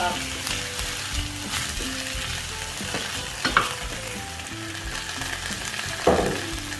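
Potatoes frying in heated oil in a home kitchen, a steady crackling sizzle with stirring scrapes and a couple of sharper clatters, close and moderately loud.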